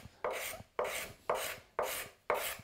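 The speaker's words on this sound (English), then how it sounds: "this is where kind of unifying those tool marks with the scraper can be really beneficial" A hand scraper draws across a curved wooden surface in five steady, evenly spaced strokes, each a close, bright rasping scrape with a short pause between, and no talking.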